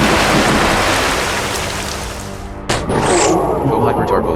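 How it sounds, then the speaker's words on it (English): Storm Rush attack in the Manamon 2 video game: a loud wash of rain-like noise, then a sharp thunder crack about two-thirds through followed by a sweeping storm burst. "Hyper-Tarboo used Storm Rush."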